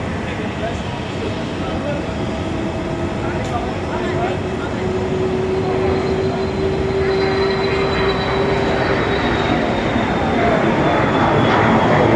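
A steady loud roar of a jet airplane at Zurich airport in Switzerland, a constant drone with a rising tonal whine layered over it, continuous for the whole stretch without pause.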